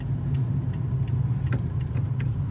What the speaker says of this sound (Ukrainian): Прискорюємося третя передача.